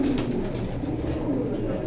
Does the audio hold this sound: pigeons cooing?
yes